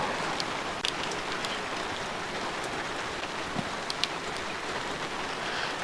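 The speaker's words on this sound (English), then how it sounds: "As predicted, we got rain and there's a little bit of sleet coming as well." Steady rain mixed with light sleet falls outdoors at an off-grid camp, a continuous dense hiss with scattered sharper ticks of drops and pellets striking nearby surfaces, no voices.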